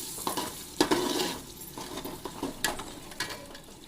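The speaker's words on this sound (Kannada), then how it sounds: "ಈಗ ಇದನ್ನ ಕಲಿಸ್ಕೊಳ್ಳೋಣ ಚೆನ್ನಾಗಿ." Biryani masala being stirred in a sizzling pan, with frying hiss under irregular scraping and clinking strokes of a utensil, a sharp knock near the start, close and moderately loud, no talking.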